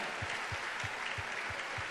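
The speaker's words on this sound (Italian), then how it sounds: "Un applauso a tutta la squadra." Crowd applause at a Lega Nord party gathering at the Pala Geox arena in Padova, with rhythmic clapping and steady low thumps pulsing beneath the dense clatter.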